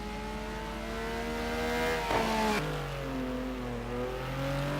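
Porsche race cars of the BT Racing team lapping the Kyalami circuit in a simulated GT race, engines whining and shifting pitch as they pass at moderate distance, one car sweeping by with a quick rise and drop, no talk.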